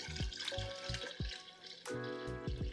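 A quart of water pours into a cooking pot of simmering bones, splashing and gurgling with rising tones in quick bursts, close and fairly loud without talk.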